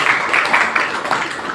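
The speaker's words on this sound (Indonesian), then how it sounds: "Tepuk tangan" Brief applause from a seminar audience: a short burst of scattered clapping from a room of people, fairly loud and close, with no talk over it.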